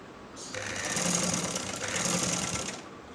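A sewing machine runs steadily for a few seconds, stitching elastic onto a hijab chadar, starting and stopping cleanly with a close, even mechanical whirr and no talking.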